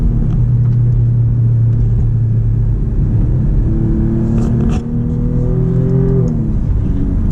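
A loud Alfa Romeo Giulia Quadrifoglio sports car engine rumbles and revs, its pitch climbing and dropping as it downshifts through the gears, with a brief blip midway.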